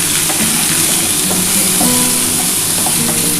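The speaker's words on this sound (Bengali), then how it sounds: "একটু ভাজা ভাজা হোক" Fish curry ingredients fry in a small amount of oil, with a constant, fairly loud sizzle and faint stirring clicks running through, no voices present.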